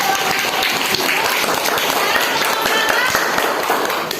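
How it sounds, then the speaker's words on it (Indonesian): A classroom group claps loudly and continuously for several seconds, a dense patter that tails off at the end, with some voices mixed in. "tepuk tangan untuk April."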